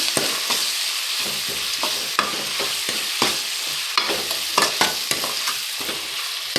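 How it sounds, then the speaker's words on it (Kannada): A spatula stirs turmeric through a cassava stir-fry in a hot pan, giving repeated scraping strokes in an irregular rhythm over a continuous close sizzle, with no talking. "ಸ್ವಲ್ಪ ಹಂಗೆ ಮಿಕ್ಸ್ ಮಾಡಬೇಕು"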